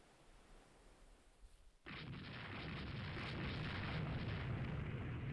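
Naval gunfire and shell hits in the Rule the Waves 2 warship game: quiet ambience breaks into a sudden heavy roar of guns that keeps rumbling loudly as the battle sound sustains.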